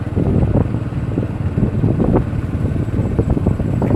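A motorcycle is ridden outdoors in the evening, with loud, constant wind buffeting the microphone over a low engine rumble throughout.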